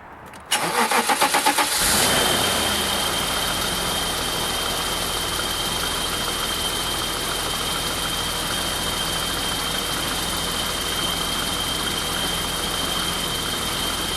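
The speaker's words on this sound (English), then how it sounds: "Start engine." A car engine with a weak battery, its state of health at 11%, cranks briefly with a rapid chugging, catches, then settles into a steady, even idle that runs on alone.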